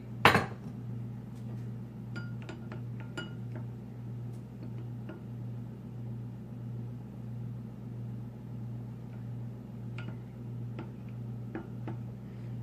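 Homemade deodorant ingredients are stirred in a bowl, with a sharp clink at the start followed by light, irregular taps and scrapes of a utensil against the bowl over a steady low hum.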